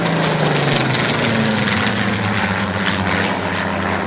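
Piston engines of a B-17 bomber drone steadily at Duxford airfield, a loud continuous propeller roar holding a constant pitch without pause.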